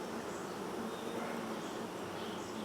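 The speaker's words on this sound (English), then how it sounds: "All these bees." Honey bees buzzing steadily in an open hive box, a dense, continuous drone close by with no gaps.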